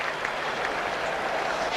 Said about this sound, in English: I can hear a ripple of applause there.